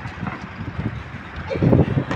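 Strong gusting wind buffeting the microphone outdoors ahead of a sandstorm, uneven rushing bursts that swell louder toward the end, with no voices.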